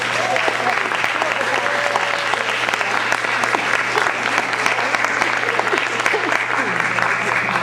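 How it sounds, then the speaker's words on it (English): A banquet crowd gives warm applause as a men's orchestra is welcomed on stage, many hands clapping in a thick continuous patter with a faint steady hum beneath and scattered voices mixed into the crowd. "a warm round of applause for St. John's Men's Orchestra"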